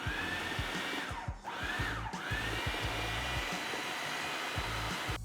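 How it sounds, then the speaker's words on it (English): A food processor runs steadily, blitzing overripe breadfruit pulp with a loud, continuous motor whir that dips briefly twice, close and alone throughout. "Just gonna put the pulp into the food processor, blitz this for about, I would say 30 seconds to a minute."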